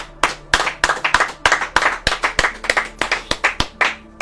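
Audience hands clapping in a steady rhythmic beat, about three claps per second, loud and close, with no talk over it.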